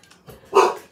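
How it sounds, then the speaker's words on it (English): A year-and-a-half-old golden doodle gives a single loud, close bark following a few faint, soft sounds. "He hears or sees something, and he barks at everything."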